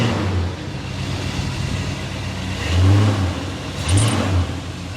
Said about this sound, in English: Give it a little bit of a rev here.